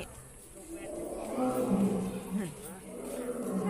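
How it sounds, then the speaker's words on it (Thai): A male lion at Khao Kheow Open Zoo gives a low, rumbling roar that swells and fades over a couple of seconds, somewhat distant, with people talking around it. "สิงโตคำรามตัวผู้"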